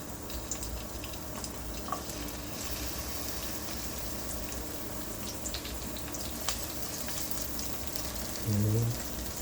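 Green onions fry in a couple of tablespoons of oil in a pan, a soft, steady sizzle with faint clicks and a brief louder clatter near the end.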